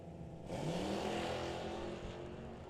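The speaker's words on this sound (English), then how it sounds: "Side by side, they work down the racetrack." Two drag racing cars, a 1972 Chevelle and a 1974 Camaro, roar side by side down the strip, a loud sustained engine rumble that swells sharply at launch and holds steady at full throttle.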